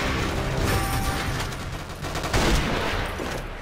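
Rapid bursts of gunfire in a video game, including F2X sniper rifle shots landing on oversized heads, dense overlapping reports with mechanical clatter throughout.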